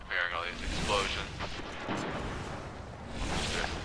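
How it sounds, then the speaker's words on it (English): Explosions in Destiny's Iron Banner multiplayer mode, several muffled booms and whooshing blasts rumbling in sequence at mid-distance over continuous game noise. "I'm not fearing all these explosions."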